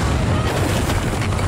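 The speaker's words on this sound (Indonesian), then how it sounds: "Saat itulah ledakan pertama terjadi." An explosion in a heist film about professional robbers teaming up, a loud sustained blast rumble with booming, gunfire-like crackle filling the whole moment.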